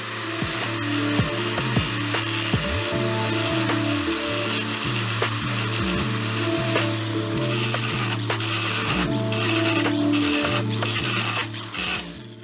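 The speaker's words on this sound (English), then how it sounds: "So you basically just take a grinder" Close, continuous grinding from an angle grinder cutting into a car widebody kit, the tone dipping and recovering repeatedly as the cut progresses, with no talk over it.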